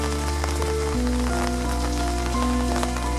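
Steady, dense rain patters on a hard surface in Toledo, Spain, near the cathedral, continuous and close, with a low hum underneath.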